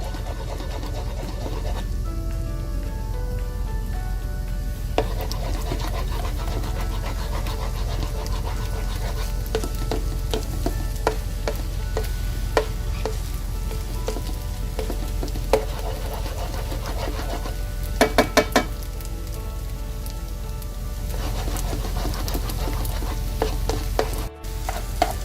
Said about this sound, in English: We're going to start scrambling the egg first.